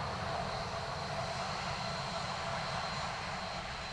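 Ryanair airliner arriving at Dublin Airport from Gatwick, a steady distant jet engine drone with a faint whine, constant and fairly quiet throughout.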